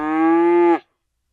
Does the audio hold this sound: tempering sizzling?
no